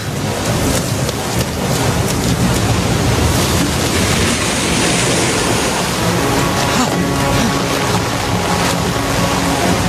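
Water rushes in as a flood, a loud, dense, unbroken roar that fills the whole stretch with no pauses.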